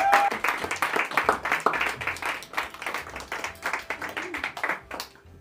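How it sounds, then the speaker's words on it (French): An audience applauds the jury at a competition event, a moderate crowd of hand claps with some voices mixed in, fading out near the end. "un maximum d'applaudissements pour eux"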